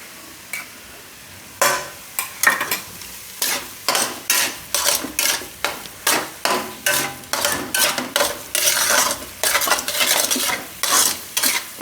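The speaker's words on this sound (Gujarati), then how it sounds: "રીતનો લોટ શેકાઈ જવો જોઈએ" Flour roasting in ghee for Gujarati winter sukhdi, stirred in a pan with a spoon, in quick repeated scraping strokes over a soft background sizzle, close and rhythmic after a brief quiet start.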